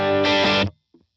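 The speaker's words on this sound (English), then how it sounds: "this is the first stage of overdrive enabled" A single electric guitar chord with the first stage of overdrive rings out loud and gritty, then is cut off abruptly, leaving a faint soft noise after.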